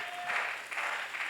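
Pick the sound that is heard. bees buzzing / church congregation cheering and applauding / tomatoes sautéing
church congregation cheering and applauding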